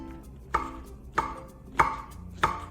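A knife slices shiitake mushrooms on a cutting board, four crisp, evenly spaced chops sounding close and clear, with no talking.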